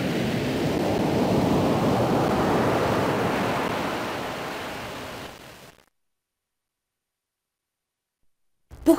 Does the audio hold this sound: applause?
no